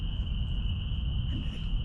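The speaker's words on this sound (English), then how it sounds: "it's pretty quiet besides the frogs and the crickets" Crickets chirp in a steady, unbroken high trill in night woods, with a low rumble of background ambience beneath, even and sustained throughout.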